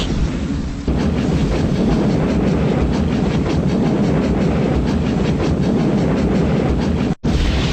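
A video-game train rumbles along continuously with a rhythmic clickety-clack of wheels on rails, loud and close, dropping out briefly near the end as it stops at a station.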